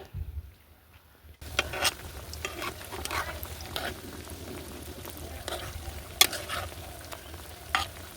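Potato and flour snacks sizzle in hot oil over a clay stove. After a quiet start, a steady close crackle and bubbling run throughout, with occasional sharper pops.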